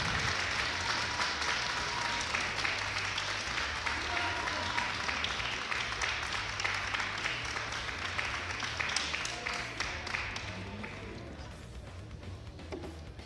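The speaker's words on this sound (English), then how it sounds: "Both fighters getting a big applause here." After a Brazilian jiu-jitsu superfight at Lutador de Elite, an event crowd gives sustained applause, a thick continuous clapping that holds for a long stretch before gradually thinning, with faint voices mixed in.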